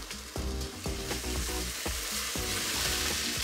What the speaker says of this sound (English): we just sweat off the onion until it's nice and pale golden color